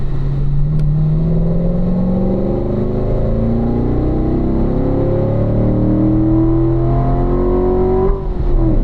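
A Corvette race car on a track at a racing school holds a loud, steady engine drone whose pitch slides and shifts as it slows for a turn, with a brief change in the engine note near the end.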